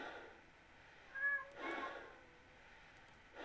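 A cat meows twice in a video game, two short clear calls close together, heard alone against a quiet background.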